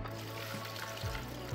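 A small amount of water trickles and pours over ice and salt in a bush cooking setup, faint and close, with a low steady hum underneath.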